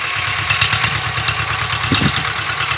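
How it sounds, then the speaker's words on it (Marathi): A tractor engine runs steadily close by while working a farm field, a low chugging rumble with some mechanical clatter and no talking. "ट्रॅक्टरने आता काखऱ्या घालून घेतोय आम्ही"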